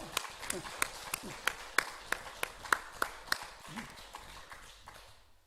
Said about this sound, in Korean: 우리 축하의 박수 보내주시면 감사하겠습니다.